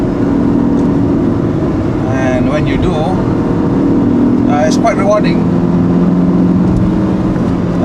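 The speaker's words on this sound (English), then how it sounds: "You have to really work the engine hard to get the most performance out of it" Proton Satria Neo CPS engine revving hard through the gears on a test drive, a steady loud drone from inside the car with someone talking over it throughout.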